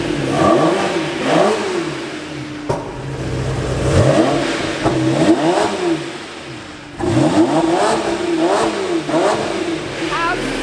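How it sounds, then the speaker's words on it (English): A Lamborghini Murcielago's engine revs repeatedly, each blip rising and falling in pitch, loud and close, with a short pause before more revs, faint voices underneath. "But we haven't even revved it yet."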